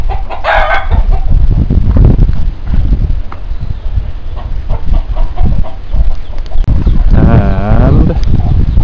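Chickens and roosters on a farm in Oecusse, Timor-Leste, cluck continuously and loudly close by. A rooster crows near the start and again near the end over steady background noise.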